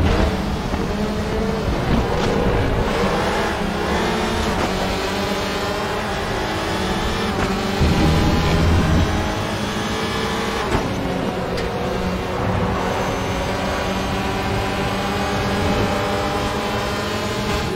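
A Peugeot touring car in a WTCR race at Portimao accelerates hard out of a corner, its engine a loud, steady, rising roar through the whole stretch with no talking.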